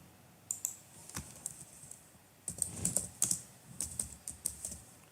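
Typing on a computer keyboard while a Linux user login name is entered, with bursts of crisp, close key clicks in an irregular rhythm and a short pause before a denser run of keystrokes.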